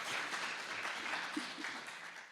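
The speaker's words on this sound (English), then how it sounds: "Big applause." Audience applause at a European sustainability congress, a short burst of steady clapping from a crowd that fades toward the end.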